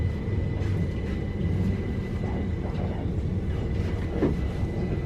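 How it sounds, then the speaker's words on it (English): Trains at Clapham Junction station in London give off a continuous low rumble with a steady hum, fairly near, sustained without clear breaks and with no talk. "There are 3 trains in this little suburban station."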